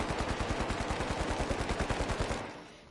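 Sustained automatic gunfire from a weapon in the shooter game The Finals, a fast, steady burst of evenly spaced shots running nearly three seconds before cutting off, loud and close with no talking.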